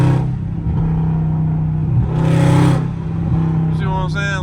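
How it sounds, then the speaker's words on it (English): Dodge Scat Pack with a muffler-delete exhaust rumbling steadily during a rush-hour traffic drive, swelling briefly into a louder rev, with someone talking over it throughout. "all I did was delete on my exhaust, bro, and they're not even straight pipe, just listen"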